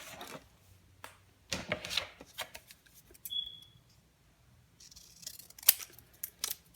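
Scissors cutting the border of a paper card, several close, crisp snips and paper rustles in short bursts with quiet pauses between, and no talking.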